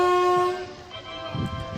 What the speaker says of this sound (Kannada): ಟ್ರೈನ್ ಬರ್ತಿದೆ